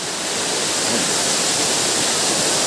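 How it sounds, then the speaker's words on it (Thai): Salatdai waterfall in Nakhon Nayok, Thailand, roars as a steady, loud broadband rush of falling water, filling the whole stretch evenly with no voices. "ด้านหลังของผมก็คือน้ำตกสลัดใดนะครับ"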